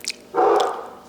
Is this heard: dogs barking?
yes